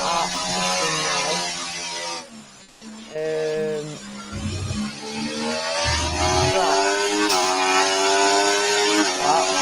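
Race car engines in the Slipstream sim racing game at Brazil, shifting pitch as they rev up and down through gears, the whine sustained and fairly loud with a commentator's voice running beneath.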